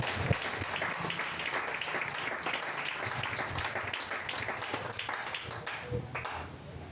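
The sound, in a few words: congregation applauding in church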